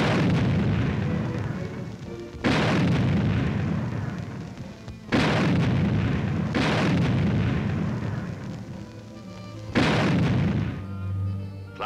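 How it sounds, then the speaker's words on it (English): A 90-millimeter tank gun fires on a range, four loud booming shots a few seconds apart, each with a long rumbling decay. "a demonstration of what a 90-millimeter tank gun sounds like in action"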